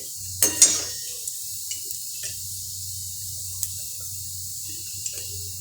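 Cucumber and flattened-rice vadiyalu snacks frying in hot oil give a steady low bubbling sizzle, with a couple of clinks from a spoon or pan near the start and a few faint ticks later, and no one talking.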